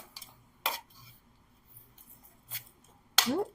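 Homemade pizza being cut in half on a slippery pan, with a few short, sharp scraping cuts spaced apart, fairly close, in an otherwise quiet kitchen.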